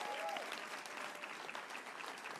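Audience applause for panelists being welcomed onto the stage at a women's global sports summit, a dense, steady clapping from a crowd that holds at an even level throughout.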